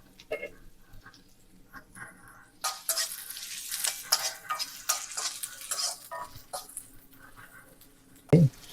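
Chopped onion goes into a pan of hot soybean oil for a pui shak and shrimp curry, bursting into a loud hissing sizzle after quiet opening movements, with stirring scrapes and a sharp clank near the end.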